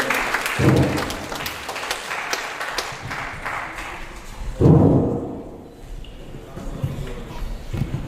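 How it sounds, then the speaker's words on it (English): Audience applause at a cybersecurity meetup in Minna, a round of clapping rising for an MC amid background talk and crowd noise, with a louder burst midway before fading. "Please, a round of applause for him."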